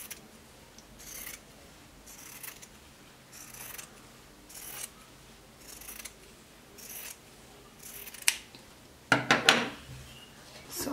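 Scissors cut open fabric for a peplum blouse with a rhythmic run of soft, evenly spaced snips, followed by a few louder, sharper clacks near the end, close by and without talking.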